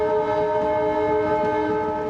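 A train rolling past on the railway route toward Varanasi, a steady, loud, sustained drone with strong tonal lines like a horn or engine, unbroken across the whole stretch.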